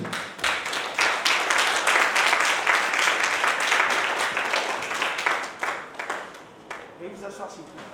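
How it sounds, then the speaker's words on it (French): Guests at a civil wedding ceremony break into sustained applause for the presiding mayor, dense clapping swelling early and holding before thinning out toward the end, with some voices beneath. "Wenzel, sur vos applaudissements s'il vous plaît."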